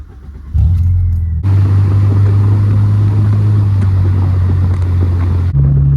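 A car engine rumbles steadily from inside the vehicle as it sets off on the road, with a low droning hum that shifts slightly in pitch as it drives, loud and close with no talk.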